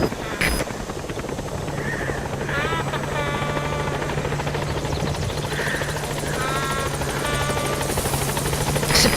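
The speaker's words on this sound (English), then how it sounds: "This is helicopter B-Quad." Helicopter from the PS4 game Metal Gear Solid V: The Phantom Pain arriving, a steady rotor hum and buzz throughout, with radio-style voices and game effects over it.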